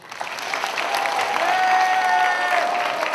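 Large crowd at a Korean youth church retreat evening service breaks into sustained applause, a dense, steady wash of clapping with some cheering mixed in.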